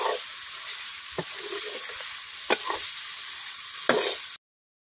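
Mutton pieces frying in a karahi, a steady close sizzle with a few brief stirring clatters at intervals, no talking.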